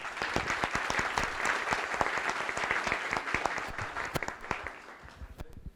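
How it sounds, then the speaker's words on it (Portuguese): An audience at an electric-grid ancillary services workshop in an office setting applauds the speakers after a presentation, with steady, fairly close clapping and distinct individual claps standing out as it gradually thins. "peço uma salva de palmas para eles"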